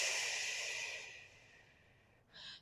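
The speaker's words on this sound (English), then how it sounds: "You want to inhale." A deep, breathy inhale during a kneeling stretch, close and steady, fading out over about two seconds before a short second breath starts at the end.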